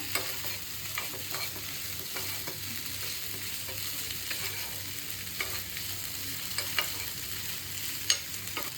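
A spoon stirs millet and oats pasta in white sauce in a pan on the stove. It makes steady scraping and clicking with a soft sizzle underneath, close and moderately loud throughout, with no voices.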